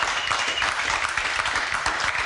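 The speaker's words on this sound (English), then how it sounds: "Big round of applause for Hayley, everyone." A television studio audience gives a dense, steady round of applause for actress Hayley Mills, a continuous close wash of many hands clapping with no talking over it.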